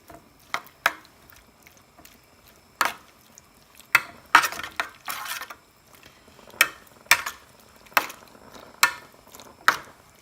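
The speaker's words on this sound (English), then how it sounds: "And then mix it all around until all the powder from the white sauce has absorbed into the milk." Spoon stirring white sauce powder into a cup of milk in a dish for a fish pie, giving sharp scattered clinks and scrapes against the container with short wet swishes between them, close and alone.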